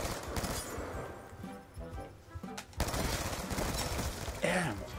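Gunfire in the video game Black Ops 2 during party game play comes as dense bursts of rapid shots mixed with game noise, loud and continuous, with a brief lull midway.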